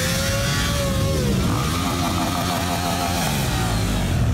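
Motorcycles riding in a unity motorcycle rally, engines loud and close, revving and droning continuously as bikes pass, with no talk.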